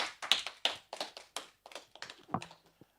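Sparse, quiet hand claps from a small audience at a student by-election question time, a handful of separate claps trailing off, with a brief low voice near the end.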